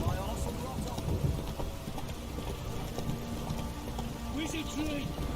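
Steady rain falls in The Witcher 3: Wild Hunt, a constant dense hiss filling the whole stretch, with faint game sounds and a brief voice-like murmur near the end.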